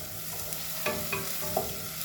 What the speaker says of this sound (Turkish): Soğanımla avucumu kavuracağım iyicene